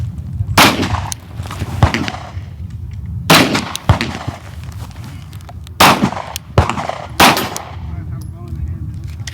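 Rifle shots ring out during a prone-position shooting challenge: about six sharp, loud cracks in irregular spacing, each with a short echo tail over a low outdoor rumble.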